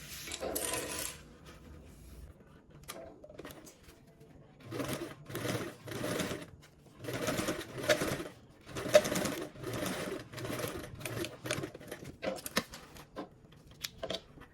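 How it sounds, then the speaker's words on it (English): A sewing machine top-stitches fabric on a bag project, running in several steady bursts of fast mechanical whirring with short pauses between them, close and clear. "we are going to go ahead and top stitch"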